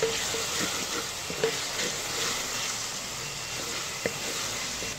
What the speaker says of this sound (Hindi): मसाले को हम अच्छी तरह भून लेंगे